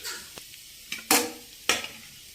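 Flattened rice with grated coconut and coriander gets mixed in a pan: a few close scraping stirs and soft knocks of a spoon against the pan, two louder strokes standing out over a faint background.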